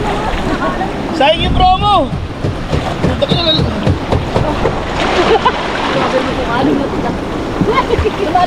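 Sea waves slosh and splash against a boat on a choppy crossing in Batangas, with irregular watery bursts and wind close by while people talk over them throughout.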